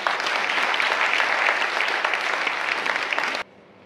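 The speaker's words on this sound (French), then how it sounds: "Je voudrais, avant de proclamer le résultat, que nous applaudissions le président de la Cour d'appel et le procureur général de la Cour d'appel" An audience at an eloquence contest final applauds the president and the prosecutor general of the Court of Appeal, a dense round of clapping that holds steady, then stops abruptly.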